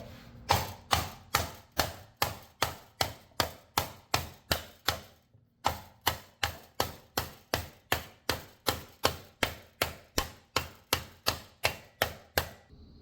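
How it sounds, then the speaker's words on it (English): A wooden mallet pounds a metal armor leg piece into a bowl-shaped hollow in a wooden anvil, about thirty sharp, evenly spaced blows with one short pause midway, each a crisp thud with a quick decay. "Use my wooden mallet and kind of pound it down into there."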